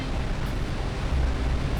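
A waterfall roars in the video game Jak and Daxter, a broad, continuous rushing wash of water that swells slightly near the end, heard alone without talk.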